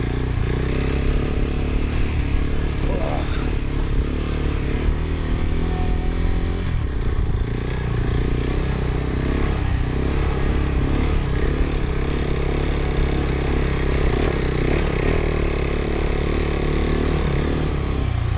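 A KTM 390 Adventure motorcycle ridden hard off-road drones steadily and loudly throughout, its engine note rising and falling with clattering from the rough ground and no voices.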